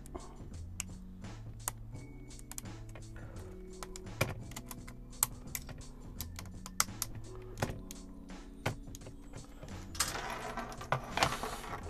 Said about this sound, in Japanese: キーボード壊れた。